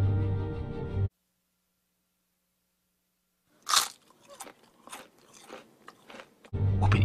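Crunchy bites in the underwater game Feed and Grow: Fish: a loud sharp snap followed by a run of softer chewing crunches, set between stretches of louder game sound and a few seconds of silence.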